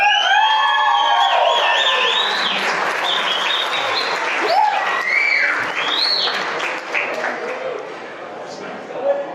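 Wedding guests giving the groom a warm round of applause at the reception, loud clapping that begins strongly and tapers, with cheers and whoops rising over it.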